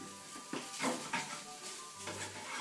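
Cooked rice is stirred into a hot frying pan with ham, giving soft scraping and shuffling strokes over a low sizzle, with a few louder scrapes close by.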